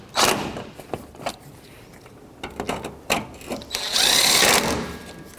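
On a 2006-2012 Toyota RAV4 2.4L, a ratchet tightens the crankshaft position sensor mounting bolts in quick clicking bursts, with a few knocks and a longer steady whir near the end, close by.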